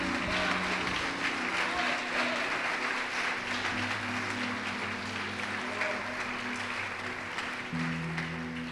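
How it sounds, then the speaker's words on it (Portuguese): A church congregation applauds together after a preacher's call, steady dense clapping filling the room for several seconds, with an organ or keyboard chord sustained underneath. "Vamos aplaudir o Senhor Jesus por isso."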